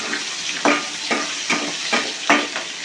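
Capsicum sizzles in a pan with masala and sour yogurt, a steady frying hiss broken by five or six regular scraping stirs, close and fairly loud with no talking.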